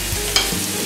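Chopped mushrooms and garlic browning in a pan for a vegetarian shepherd's pie, giving a brief, soft sizzle with a light stir or scrape near the middle.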